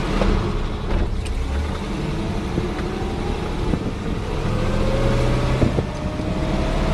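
A 1936 Cord Westchester driving along with a steady, close engine drone from inside the car, and engine pitch changes as it moves through the gears; nobody speaks.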